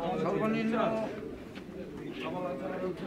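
Pigeons coo at a busy outdoor pigeon market in Saroliya, Bangladesh, their soft warbling calls mixed with people talking nearby.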